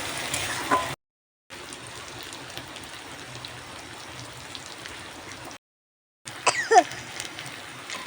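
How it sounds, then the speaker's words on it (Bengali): Garlic masala sizzles in hot oil in a pan as it is stirred, a quiet, steady rain-like crackle broken by two short silent gaps, with a few sharper clinks near the end. "রসুনের কাঁচা গন্ধটা যতক্ষণ না যাচ্ছে বেশ ভালোভাবে নাড়াচাড়া করে ভেজে নিচ্ছি।"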